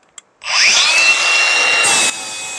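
A power sander grinds on Bondo body filler over the roof of a Dodge D150 truck, starting abruptly and running loud and close with a whining tone for about two seconds.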